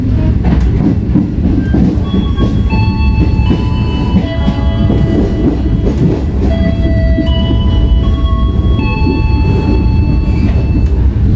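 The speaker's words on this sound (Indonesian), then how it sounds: "Kereta api Tegal Bahari akan segera tiba di stasiun Pasar Senen." The Tegal Bahari passenger train pulls into Pasar Senen station with a loud, continuous rumble of rolling wheels on rails, overlaid by thin, high metallic squeals from the wheels that come and go throughout.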